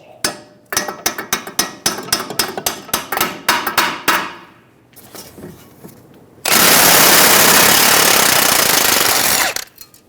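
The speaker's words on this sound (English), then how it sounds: "Using a hammer, we're going to hit around the knuckle near the ball joint" A hammer strikes the steering knuckle near the ball joint of a 2007-2011 Toyota Camry during front wheel bearing and hub work. About fifteen sharp metallic blows come in a fast, uneven series, then a loud sustained broadband rush follows for several seconds.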